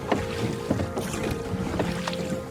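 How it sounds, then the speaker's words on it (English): A dinghy being rowed against a strong current near an anchorage: rhythmic oar strokes and splashes about every half second, close and steady, over continuous wind and water noise. "I'm rowing against the current."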